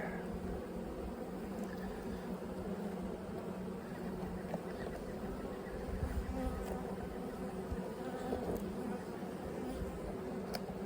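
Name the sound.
bees buzzing around a nest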